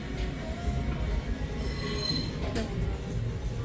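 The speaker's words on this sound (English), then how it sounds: "we've got some live tram action going on right now" A tram rolls past at a UK city stop, wheels squealing and rumbling steadily at close range and fairly loud for the whole stretch, with no voices.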